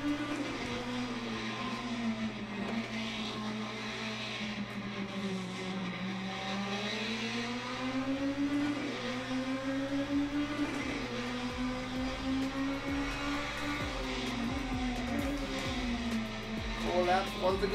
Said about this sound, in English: Race car noises, there we go.